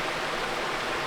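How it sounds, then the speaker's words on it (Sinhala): A small waterfall feeds a stream in a rainforest on Thailand's highest mountain, giving a steady, close rush of flowing water with no break and no voices. "මේ waterfall එකකුත් යනවා පොඩියට මේ වතුර පාර එනවා."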